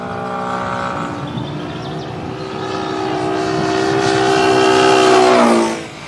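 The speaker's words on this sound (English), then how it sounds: "Now listen carefully to the sound of the engine." A vehicle engine drones steadily, its tone rising and swelling louder as it approaches, then pitch drops and fades abruptly as it passes by.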